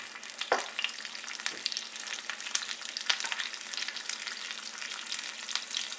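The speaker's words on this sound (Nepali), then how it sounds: "अब खुर्सानी पड्काउँदै छु" Chillies frying in hot oil, with cumin seeds already in the pan, give a steady crackling sizzle. Several sharper pops stand out from the hiss throughout.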